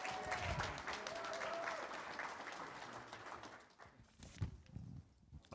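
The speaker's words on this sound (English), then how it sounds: "So yeah, round of applause for that group." A round of applause from attendees at a school board meeting, moderately close, fading out after a few seconds into quieter room noise and a few shuffles.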